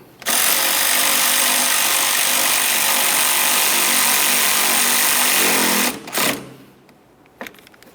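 A power tool whirs steadily for several seconds while snugging up the radiator mounting on a 2009-2010 Pontiac Vibe, loud and close, then stops with a short trailing whine and a brief clunk.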